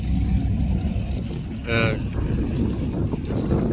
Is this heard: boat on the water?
yes